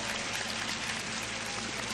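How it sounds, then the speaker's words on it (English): Studio audience applause, a steady dense patter of many hands clapping, fairly faint and uniform throughout the short stretch with no voices over it. "applause from our studio audience too."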